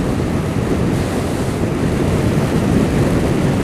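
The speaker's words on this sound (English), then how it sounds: "the wind. Definitely windier." Loud, steady wind roars and buffets the microphone while riding a 2012 Suzuki SFV650 Gladius motorcycle, a constant dense rush with no breaks and no talking.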